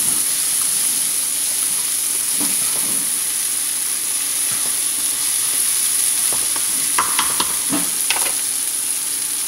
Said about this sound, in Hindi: प्याज को आपने बिल्कुल ब्राउन नहीं करना, बस थोड़ा सा इसको ट्रांसलूसेंट कर लेना।